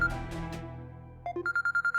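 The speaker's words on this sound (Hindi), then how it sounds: "जुनैद का फोन" A phone rings indoors in a drama scene: a few resonant bell-like tones fade out, then a rapid pulsing electronic ringtone repeats about six times, clear and close with no talk.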